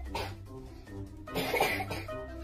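A few short, close coughs from a small child, with a brief pause between bursts.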